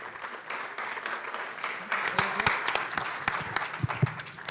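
Audience applause in a hall at a public-safety and road-safety talk, a steady wash of clapping lasting several seconds with scattered louder claps toward the end.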